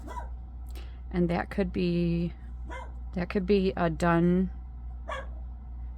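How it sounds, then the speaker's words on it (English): A dog barks repeatedly in a home craft space, loud close yips in short bursts, with a person talking over and between the barks. "He has decided that barking is his job and he does it non-stop now."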